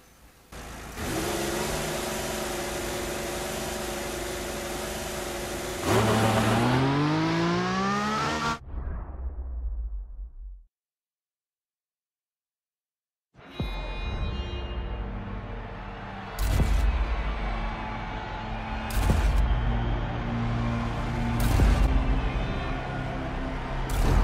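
Formula 1 race cars at the start grid of the Belgian Grand Prix at Spa in the F1 2014 video game, engines revving loudly and continuously with rising pitch sweeps, a brief silent gap, then more roaring acceleration and whooshes.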